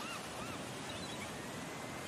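Sea waves wash onto a beach in a continuous broad roar, steady and fairly loud, with faint cries of gulls above the surf.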